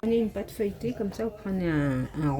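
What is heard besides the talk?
No distinct noise like a dog, phone or traffic.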